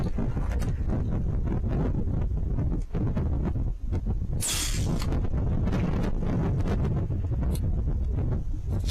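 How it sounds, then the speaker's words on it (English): Steady wind buffeting a microphone out in an open field at night, a loud continuous rumble with gusting swells and a brief hissing flare midway. "out in the open here, the wind's picked up a little bit"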